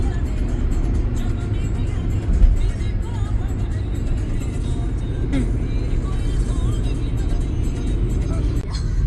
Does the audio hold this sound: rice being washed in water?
no